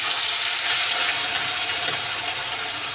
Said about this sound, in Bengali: এই যে তেল গরম হয়ে গেছে, এখন আমি মাংসগুলোকে ছেড়ে দেবো এর মধ্যে।